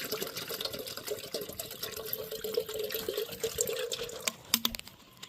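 Water is poured from a bottle into a camping percolator coffee pot at a campsite, a steady close trickling splash that runs continuously and fades near the end.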